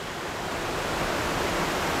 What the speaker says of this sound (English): I see all different type of waterfall before, and this one amazing.